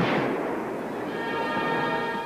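A cartoon explosion from a 1981 Spider-Man animated series booms loudly and rolls into a long, dense rumbling roar lasting a couple of seconds, with no talk over it.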